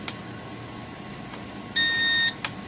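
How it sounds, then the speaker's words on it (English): Syma X8HW drone transmitter giving a single loud electronic beep when switching control modes, a steady half-second tone standing out over quiet room background. "turn it on, there's our loud beep, and it switched to mode 2"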